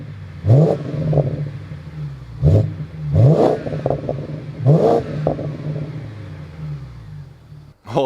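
A replica BMW M5 car engine revs hard four times with short gaps between, loud and close, each blip rising sharply and then settling back to a rough idle.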